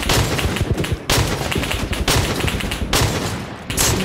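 Dense bursts of rapid video game gunfire from a tactical shooter, loud and close, firing in long rattling volleys with brief gaps between them.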